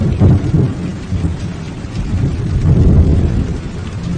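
Thunder rumbles through steady heavy rain in a horror cartoon scene, low booming swells rolling repeatedly over the continuous downpour, loud and close with no voices.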